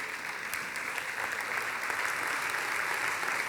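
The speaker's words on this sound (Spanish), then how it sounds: "Este aplauso es para ti, Señor." Congregation applause in a church service, a steady, dense wash of clapping that holds evenly for a few seconds, fairly close and without talk.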